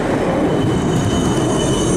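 A tram passes close by on a city street, a steady loud rolling rumble with wheel squeal and rail noise, continuous throughout with nearby traffic blended in.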